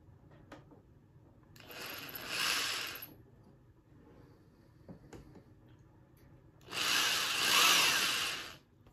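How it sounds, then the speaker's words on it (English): A power drill whirs through a plastic end cap on a toy proton pack arm in two separate bursts, each lasting about two seconds, with quiet handling noises and faint clicks between them. "enough to get it marked and then drill out the rest."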